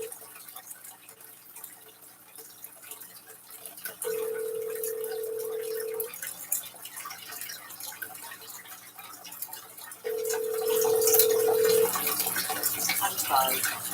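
A telephone ringback tone plays while a call goes unanswered: two long steady beeps, the first around four seconds in and the second near ten seconds, over a faint room hiss.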